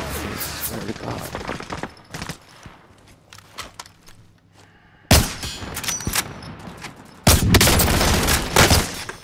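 Sustained gunfire in a multiplayer shooter match in Plunder mode: irregular rapid bursts and single cracks, some near and loud, others distant, with heavy sustained volleys toward the end.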